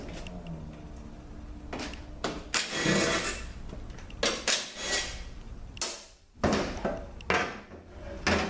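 Metal transmission oil pan from a GM 8L90 eight-speed automatic being handled during teardown, giving a string of close clanks, taps and scrapes of metal on metal, some louder knocks spaced irregularly, with no talking.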